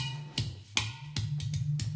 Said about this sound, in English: We've also got an udu drum over here,